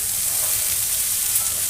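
Chopped snake gourd (chichinga) frying in a pan, an even, loud hissing sizzle that holds steady from start to finish with no talk over it.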